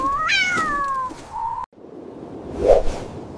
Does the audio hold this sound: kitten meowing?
yes